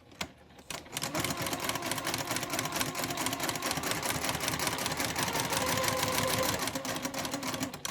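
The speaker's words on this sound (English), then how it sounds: "I'm going to go forward a few stitches and do a back stitch" A sewing machine stitches a few stitches forward and then a back stitch at the very edge of a fabric piece for a Christmas project. After a brief quiet start, a steady, close whirring rattle continues.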